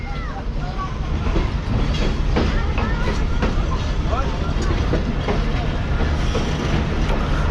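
Coaches of the Karachi Express roll past in heavy rain, a loud, continuous rumble with rhythmic clatter and occasional metallic squeals, with someone talking over it.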